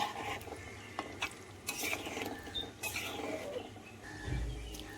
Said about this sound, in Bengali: জল দিয়ে কষা মাংসটা মিশিয়ে নিচ্ছি।